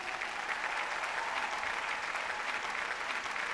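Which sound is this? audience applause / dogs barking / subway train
audience applause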